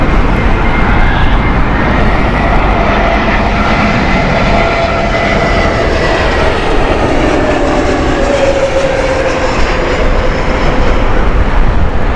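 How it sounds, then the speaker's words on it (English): A Lufthansa airliner on flight 906 to Frankfurt runs its engines at Heathrow Airport, producing a loud, continuous roar that holds steady throughout. "Frankfurt flight here with Lufthansa. This is Lufthansa flight 906"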